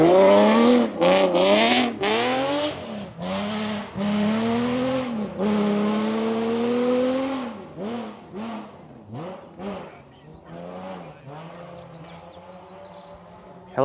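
A rally car at the Oregon Trail Rally roars past at speed, engine revving hard with rising and falling pitch as it approaches and fades into the distance, then another revs afterward.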